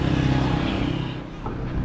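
Tricycle engines revving at a tricycle parade in Pangasinan, Philippines, a steady loud motor drone with low rumble filling the whole stretch, a faint voice in the background.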